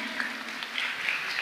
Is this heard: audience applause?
yes